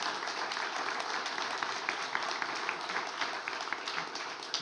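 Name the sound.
applause for panelists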